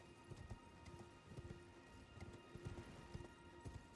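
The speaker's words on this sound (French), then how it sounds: "Allez mon cheval." Horse hooves gallop in the Elden Ring video game, a steady run of rhythmic clip-clop thuds at moderate level over a constant game ambience with a faint drone.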